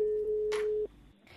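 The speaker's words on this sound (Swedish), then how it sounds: "Jag ringer till Magnus Hägers privata mottagning i Göteborg" Steady telephone line tone heard while calling a private clinic in Gothenburg, one long unbroken beep that cuts off, followed by a short burst of noise, a brief hush and faint hiss.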